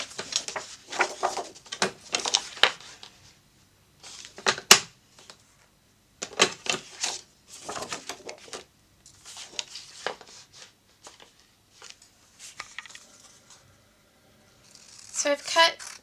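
Scissors snip through large sheets of pattern paper in short bursts of crisp cutting and rustling, close and fairly loud, separated by brief pauses.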